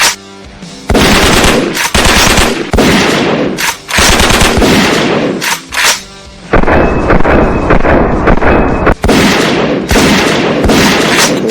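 Loud, close bursts of automatic gunfire rattle in an audio drama as locals are fired upon, rapid volleys broken by brief gaps, with a sustained ringing tone under the later shots.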